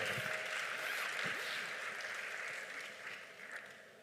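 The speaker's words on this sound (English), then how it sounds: "Excellencies, another round of applause for this wonderful panel." Applause from the audience for a leaders' panel at an African Union high-level dialogue in Accra, a steady wash of clapping that gradually thins and fades over the final seconds.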